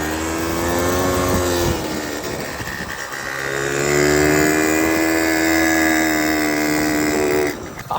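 A small scooter engine fitted to a chopped mini bike, running on a junked-up carburetor, drones loudly and steadily nearby, its pitch dipping, then rising and holding, before it cuts out near the end.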